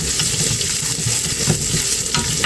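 Chopped onion sizzles and fries steadily in a hot pan for spicy sisig, a dense continuous crackle with faint stirring scrapes, close and loud with no talk.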